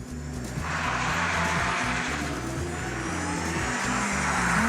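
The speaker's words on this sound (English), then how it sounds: "I'll try some handbrake turns" A car doing handbrake turns: a steady, rising engine drone carries through, heard at a moderate distance with no distinct tyre squeal and no talk.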